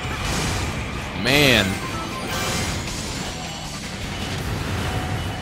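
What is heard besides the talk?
breaking glass in Sonic Generations video game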